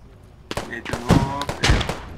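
Gunfire in the tactical shooter Squad: several sharp shots crack out in quick succession, close and loud, with a voice talking over them.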